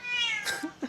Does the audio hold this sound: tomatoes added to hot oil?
no